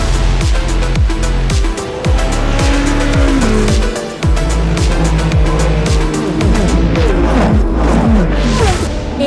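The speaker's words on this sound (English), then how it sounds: "It's a real fan favourite with that incredible V12 engine" An Aston Martin Valkyrie V12 hypercar screams at racing speed, its engine note rising and dropping sharply through repeated rapid gear changes, loud and close with a brief dip midway.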